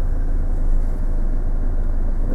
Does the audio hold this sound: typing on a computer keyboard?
no